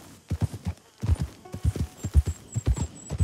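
Horse hooves gallop in a quick, steady clip-clop rhythm in Red Dead Redemption 2, close and fairly loud, with a faint tonal hum in the background.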